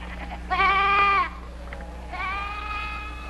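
Two wavering bleats from a sheep, the first louder and nearer, the second softer and drawn out, over a low background hum.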